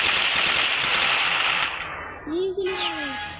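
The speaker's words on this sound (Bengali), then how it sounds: "কি গুলি মারতাছে? তো এত তাড়াতাড়ি মারতাছে।" Rapid automatic gunfire in the video game Free Fire, a loud continuous rattle lasting under two seconds that cuts off abruptly into brief electronic game tones.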